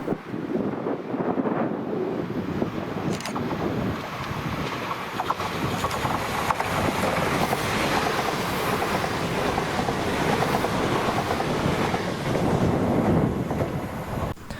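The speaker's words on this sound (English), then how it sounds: "this is 2H37, the 1852 ScotRail service to Helensburgh Central from Edinburgh with 334025 and 334006." A pair of ScotRail Class 334 electric units on a service to Helensburgh Central pass by, a sustained broad rumble and rail roar with some wind buffeting the microphone, fading slightly at the end.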